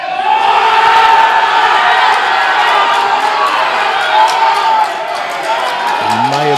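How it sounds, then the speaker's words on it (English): A crowd at the 2017 World Open Powerlifting Championships, men's 120+ kg class, cheers wildly in a loud, sustained roar of shouts and whoops that holds for several seconds before easing slightly. "The crowd has gone crazy."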